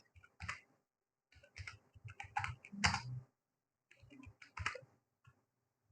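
Typing on a computer keyboard while filling in a questionnaire form: bursts of quick key clicks separated by short pauses, close and clear with no talking.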